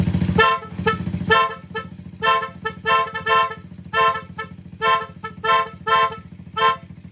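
A car horn honks repeatedly in short, evenly spaced blasts, loud and close, with a steady engine rumble underneath.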